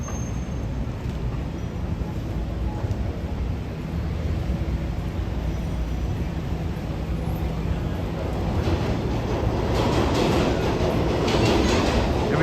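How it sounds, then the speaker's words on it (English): A New York City subway train rumbles past on a late night in Midtown Manhattan, a steady loud roll with rattling that swells louder toward the end, close by and with no talk over it. "Every time that subway goes by"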